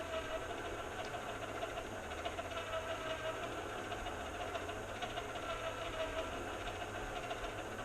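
An 18V DIY power wheel motor running at its slowest speed, a steady low hum with faint rhythmic knocking, continuous and moderately quiet.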